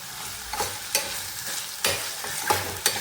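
Boiled cluster beans cooked with yogurt and red chilli are stirred in a pan, a soft sizzle under repeated scraping spoon strokes about every half second, close and clear with no voices.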